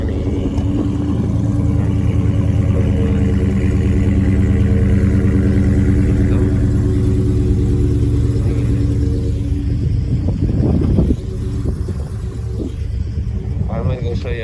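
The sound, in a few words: 2021 Dodge Challenger widebody Scat Pack engine idling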